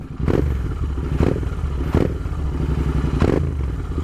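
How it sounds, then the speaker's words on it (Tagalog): Cafe racer motorcycle engine with adjusted lower clip-ons, idling with a loud, steady rumble and four sharp rev blips spaced about a second apart, close to the microphone with no talking. "Let's give it a rev. Buong buo yung tunog."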